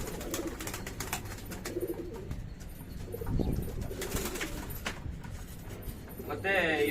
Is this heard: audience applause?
no